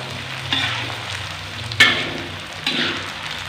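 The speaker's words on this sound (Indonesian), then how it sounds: "Kita goreng dulu basrengnya." Basreng, sliced fried fish cake, frying in a pan of hot oil in a home kitchen, a steady sizzle with a few louder crackling bursts and stirring.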